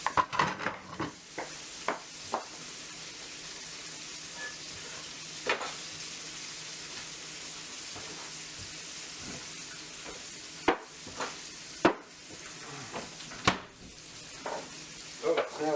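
Chicken fried steak frying in a pan sizzles with a steady crackle, punctuated by sharp clatters and scrapes of utensils against the pan as the pieces are turned, with no one talking.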